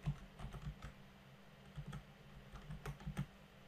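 Quiet, close clicks of a computer keyboard as a single word is typed, short irregular bursts of keystrokes with brief pauses between them.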